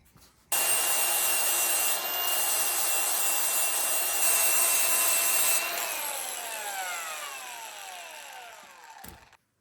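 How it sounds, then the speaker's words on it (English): A flap disc grinder polishes 48-inch mower deck blades with a loud, steady abrasive whine that starts abruptly, holds for several seconds, then winds down with a falling pitch before cutting off. "I'm not gonna get too crazy with the flap disc. I'm just gonna shine them up a little bit."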